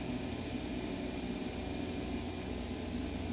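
An airplane engine drones steadily inside a flight simulator game, a continuous dense hum with a strong low tone, even in level and unbroken throughout.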